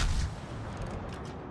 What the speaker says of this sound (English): They have big battleships firing HE.